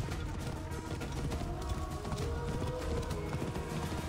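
In Assassin's Creed Origins, a horse gallops with quiet, rapid, continuous hoofbeats over steady game background noise, with no talk heard.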